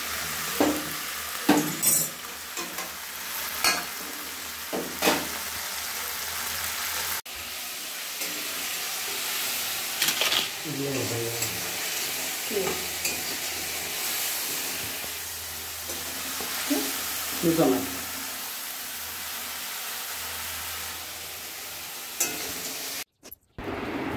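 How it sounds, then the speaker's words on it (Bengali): Bottle gourd frying with a fish head in a pan, making a continuous sizzle broken by repeated scraping stirs of a spatula, close and fairly loud. "মাছের মাথা দিয়ে লাউ ভাজা হচ্ছে"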